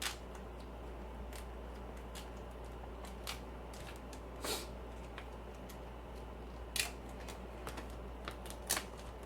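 Packaging of a 1STPLAYER Firerose MK3 being cut open, faint scattered snips and crinkly plastic clicks spaced irregularly over a quiet low hum, close by with no talking.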